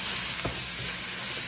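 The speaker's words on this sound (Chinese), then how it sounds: "继续给它大火翻炒" Bean sprouts and chives stir-fried over high heat, making a steady, close sizzle with a soft scrape of tossing partway through.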